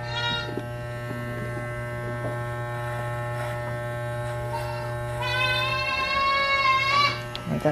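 Electric clippers shave thick hair from a goat held in a stand, a steady mains-like buzz running throughout, near and continuous, with a brief goat bleat rising toward the end.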